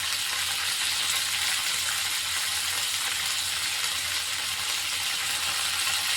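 Garlic, onion and tomato fry in a pan for a Tamil white-garlic puli kuzhambu curry, giving a steady, dense, close hiss that stays even throughout with no talking.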